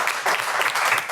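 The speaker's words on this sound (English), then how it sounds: "So let's firstly give her a round of applause." Audience applause at a city council meeting, honoring a state representative: a dense, steady wash of many hands clapping throughout, fairly loud and continuous, with no speech over it.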